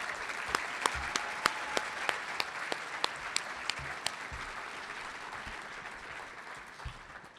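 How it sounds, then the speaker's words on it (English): Warm, steady applause fills a Chamber of Commerce dinner hall for the evening's honorees, a few louder individual claps popping out before the clapping gradually thins toward the end. "Please join me in a round of applause for all of the honorees this evening."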